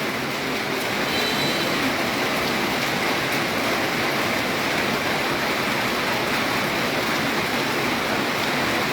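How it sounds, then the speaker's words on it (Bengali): A loud, unbroken roar of rain pours down throughout, dense and steady like heavy rainfall close by, heard from inside a shop, with no talking. "দেখুন কীভাবে বৃষ্টি পড়ছে হঠাৎ করে বৃষ্টি আসলো"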